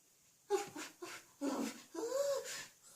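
A voice imitates a dog barking during a told fairy tale, giving four short breathy woof-like bursts in quick succession, close and fairly quiet.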